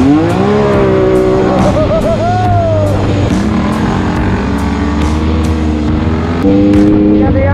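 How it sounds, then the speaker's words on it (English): A fully loaded 2021 Can-Am X3 RS Turbo RR Max side-by-side burns out its tires on asphalt. The engine revs loudly and the tires scrub close by, while someone shouts and talks over the roar. "fucking burning out my tires on"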